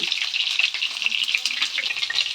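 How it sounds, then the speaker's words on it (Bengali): Pointed gourd (potol) fries in hot oil for a tel potol dish, a dense crackling sizzle with bubbling pops, close and loud with no voices. "আমার পটলটা ভাজা ভাজা হচ্ছে"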